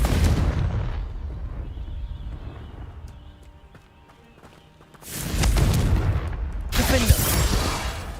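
A Confringo fire spell goes off in Hogwarts Legacy as a sudden loud blast with a crackling burst, and a second boom follows shortly after. Before it comes a rumbling stretch and a faint, quieter lull.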